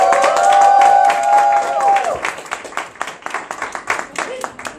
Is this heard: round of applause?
yes